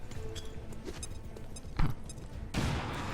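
A grenade explodes in the XCOM 2 strategy game with a sharp, fairly loud blast, followed by a broad rushing burst of debris noise. Quieter game sounds come before it.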